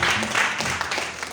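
A church congregation at a Sunday service applauds in praise of the Lord, with steady, dense clapping that fills the whole moment.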